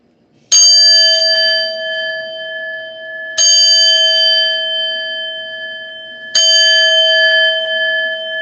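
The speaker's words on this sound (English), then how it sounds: "we're going to chime out." A ritual chime bell struck three times at steady intervals, each strike bright and ringing with a long sustained shimmer that fades slowly before the next, clear and close with no voices.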